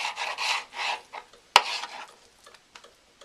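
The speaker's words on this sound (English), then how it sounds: "I'm just going to take it and do a little slicey slice" A knife slicing through bacon strips on a cutting board gives several close, quick rasping strokes, then a sharp knock of the blade against the board, followed by a few quieter scrapes.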